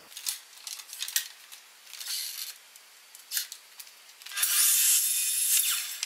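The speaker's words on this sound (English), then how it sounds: "I'm going to cut it with the mitre saw" Close cutting of timber for camper van wheel-arch boxing, with short rasping bursts at first and then a sustained loud, bright cut near the end, no talking over it.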